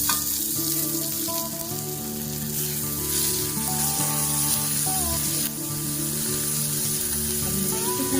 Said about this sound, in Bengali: আমার পেঁয়াজটা মোটামুটি ভাজা হয়ে গেছে। তো এবার আমি টমেটোটা আর কাঁচা লঙ্কা উপর থেকে দিয়ে দেবো।